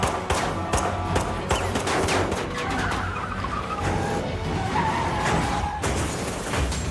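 A stunt car is flipped by a cannon firing a projectile into the ground: dense, loud bursts of blasts and crashing impacts with scraping metal, steady and continuous throughout with no talk.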